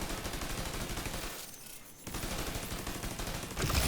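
A turret in a video game fires continuously in rapid automatic bursts, loud and dense, with a short lull in the middle before the fire resumes, and no talk.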